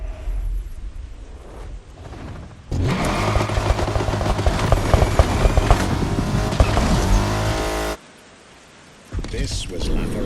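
A LaFerrari supercar in the racing game The Crew Motorfest roars loudly for about five seconds, a dense, high-revving engine surge set between quieter passages with a voice talking.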